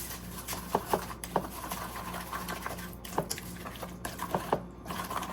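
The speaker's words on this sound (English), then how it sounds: "So we're going to stir this, make sure it's mixed in." A spoon stirs pumpkin muffin batter in a bowl with a soft, wet, rhythmic scraping and occasional clicks against the side, fairly quiet and close, no speech.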